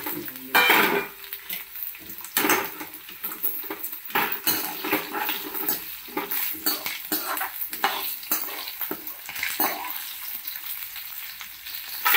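Ingredients for gongura chutney fry in a pan with a soft sizzle. A metal spoon stirs and scrapes against the pan in irregular clinks and knocks.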